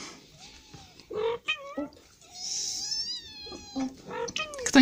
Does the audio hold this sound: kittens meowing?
yes